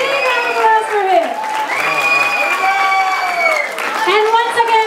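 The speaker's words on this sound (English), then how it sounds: "Big round of applause for him." Applause and cheering from a crowd at a Janmashtami festival at a Baltimore ISKCON temple, a steady wash of clapping that runs the whole time, loud and close, mixed with sustained tonal voices or music.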